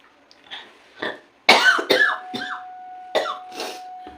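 Several separate coughs from a person ill with a cold, some harsh and some lighter, come in an irregular series up close, with a faint tone lingering in the background.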